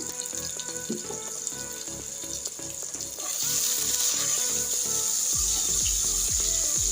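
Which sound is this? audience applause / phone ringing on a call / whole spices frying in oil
whole spices frying in oil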